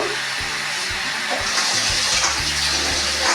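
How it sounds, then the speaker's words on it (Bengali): Rice being rinsed in water, a close, continuous splashing and swirling with running-water wash throughout, fairly loud and without talk. "এবার চালটা আমি সবার আগে ধুয়ে নেব।"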